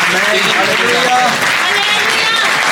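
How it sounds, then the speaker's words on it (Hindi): Dense applause from a church congregation fills the space steadily, with voices calling out over the clapping. "जोर से ताली।"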